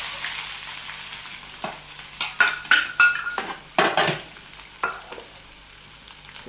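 Onions and curry leaves fry in a pan with cloves, a steady sizzle broken by clanking strokes of a metal spoon stirring against the pan, close and clear with no speech.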